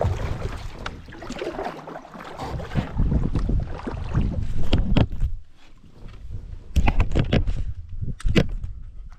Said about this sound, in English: Oh, big strong wind, eh, bud?